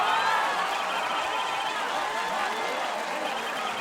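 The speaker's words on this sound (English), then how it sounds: "Enough applause." Crowd applause in the video game Phoenix Wright: Ace Attorney Spirit of Justice, a dense, continuous wash of clapping mixed with faint crowd murmur that holds steady and eases off slightly toward the end.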